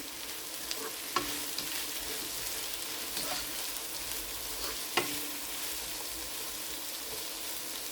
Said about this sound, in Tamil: இப்போ பாருங்க, வெங்காயம் பொரிஞ்சிட்டு